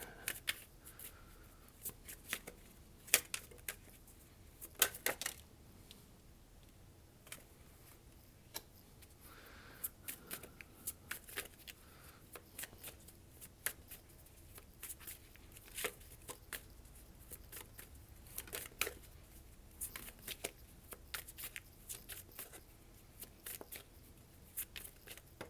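Tarot cards being shuffled: faint, repeated soft riffles and crisp card snaps recur irregularly in a quiet room for the whole stretch.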